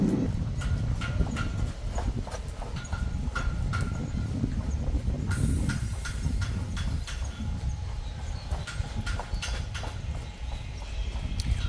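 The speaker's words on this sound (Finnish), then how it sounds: "On se kyllä hieno hevonen" A horse walks outdoors on a riding outing, its hooves clip-clopping in a steady, even rhythm close by over a low background rumble, with no talking.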